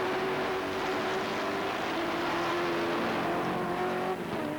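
Touring cars racing at Silverstone in the 1987 British Touring Car Championship, a sustained engine drone holding a steady pitch with only slight shifts, continuous and fairly loud throughout, without commentary over it.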